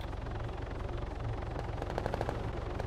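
Rapid automatic gunfire rattles in the Arma 3 military shooter, a dense burst of evenly spaced shots over a steady low rumble, loud and close with no talking.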